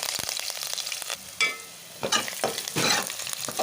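Green chillies, chopped onions, cumin and curry leaves frying in hot oil for a tuna fish curry, with a steady close sizzle broken by several sharper crackling bursts as the pan is stirred.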